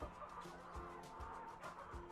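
Hungry chickens on a poultry farm cluck and murmur as a flock, a busy continuous chorus of overlapping calls at close range.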